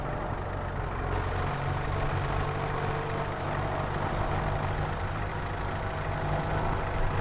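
A heavy farm vehicle engine labors on a steep slope in Farming Simulator 2017, a loud, continuous low rumble and drone holding steady throughout, with no talk over it.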